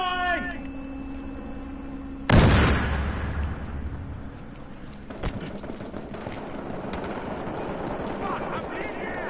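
A grenade explodes in a video game: one sudden loud blast followed by a long rumbling decay, with scattered gunfire and faint voices in the background.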